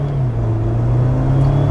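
A 2025 Jeep Wrangler Rubicon X engine holds a loud, steady low drone while accelerating, with a faint rising whir above it and no talking.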